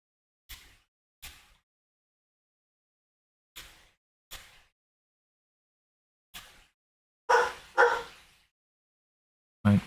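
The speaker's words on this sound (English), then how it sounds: "Might hear a dog bark." A dog in smoky bushfire country in Western Australia barks in short, sharp single and double yaps. Seven barks come at irregular intervals with silence between, the last few louder and closer.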